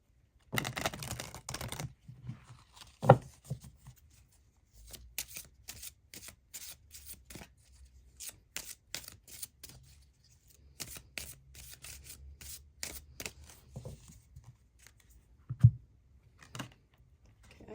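Oracle cards from a Talisman Oracle deck being shuffled by hand in repeated quick riffling and tapping bursts with brief pauses between them, close and fairly quiet.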